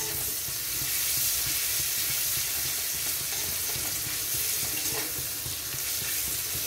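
Garlic and onion sizzle steadily in hot oil in a pan with fish roe, a continuous close frying crackle with occasional stirring scrapes and no voices.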